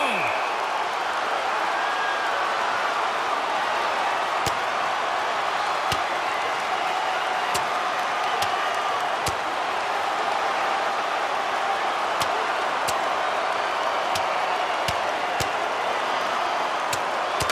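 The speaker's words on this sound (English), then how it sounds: "Crowd on its feet after watching that one." Hockey arena crowd cheering in the video game NHL 26: a steady, dense roar that holds for the whole stretch, punctuated by sharp knocks and claps.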